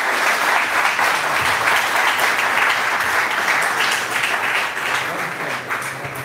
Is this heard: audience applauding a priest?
yes